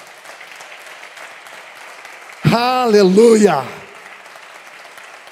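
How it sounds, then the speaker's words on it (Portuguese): A church congregation applauds in the background during a Portuguese-language evangelical sermon; the clapping runs steady and moderate, and midway a man's loud, sustained shout rises over it for about a second before the clapping continues alone. "Pode aplaudir a Jesus"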